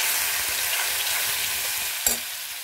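Tomato puree and spices fry in a pan for an Odia raw banana curry, a steady close hiss of sizzling with a brief stir clink near the end and no talking.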